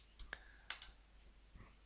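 Computer mouse clicks while switching chart types in QlikView: a few sharp, separate clicks at an irregular rhythm, close and fairly quiet, over a low room hiss.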